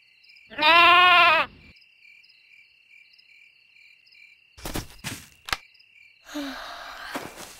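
A single sheep bleats once, a short wavering cry, near and clear over a steady insect chirp at night, followed later by faint scattered sounds.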